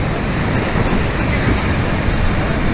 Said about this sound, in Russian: Волны вам немножко, как раз ветра нету.